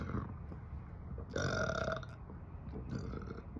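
A loud, drawn-out burp erupts midway, standing out clearly against a steady background hum, followed by quieter throaty sounds near the end.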